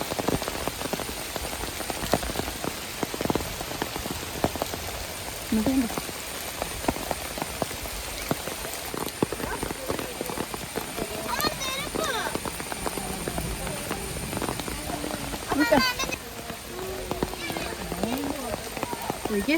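Rain pattering steadily on foliage and surfaces in the Kodanadu forest, a dense constant hiss of drops with people talking nearby at times.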